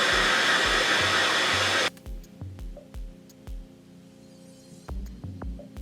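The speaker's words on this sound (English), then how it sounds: "sometimes I'll use the hooded dryer for a few minutes and then I air dry it afterwards" A hooded hair dryer blows with a loud, steady whoosh for about two seconds, then cuts off abruptly, leaving quieter rhythmic thumping and clicking handling sounds.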